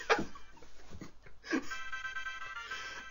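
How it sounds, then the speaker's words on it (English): A mobile phone rings indoors with a sustained melodic tone. Game sounds and short bursts of other noise play around it at moderate level. "Sorry folks, that was his phone."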